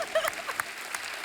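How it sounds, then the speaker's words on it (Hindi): Studio audience on a Hindi comedy talk show claps for the guest's parents, a brief dense burst of applause with some overlapping voices, fairly loud at first then settling. "माता पिता के लिए जोरदार तालियां।"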